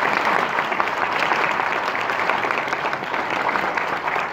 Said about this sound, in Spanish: todos los participantes merecen un fuerte aplauso, por favor